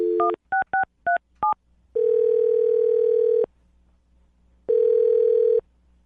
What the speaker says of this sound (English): I'm going to dial his phone number right now.